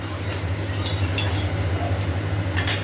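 Okra being stirred in a pan with potatoes added, a few soft metallic clinks and scrapes over a steady kitchen hum.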